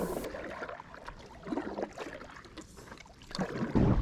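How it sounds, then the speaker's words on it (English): Kayak paddle strokes dip and pull through lake water on a hurried return to the ramp after pike and perch fishing, several close splashing strokes in an uneven rhythm with light wind over the microphone. "So I packed my gear and started paddling as fast as possible"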